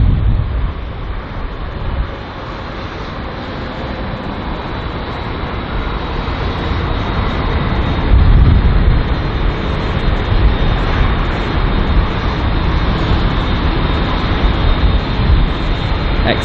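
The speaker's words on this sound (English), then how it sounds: "first in line to arrive is this British Airways A319 arriving from Zurich on its 1 hour and 21 minute long flight" A British Airways A319 jet arriving at London Heathrow from Zurich, a loud, steady broadband roar that swells slightly midway and holds close and strong throughout.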